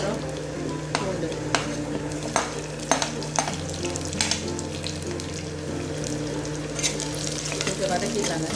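Red chili, ginger and garlic sauté in a pan, a steady sizzle broken by sharp scrapes and knocks of a stirring spoon, with a faint running-tap wash in the background.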